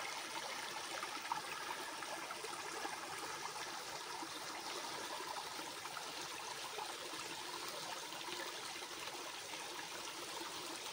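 A small stream runs beside the old stone walls of an abandoned village ruin, a steady, soft rushing and trickling that continues without a break and with no voices.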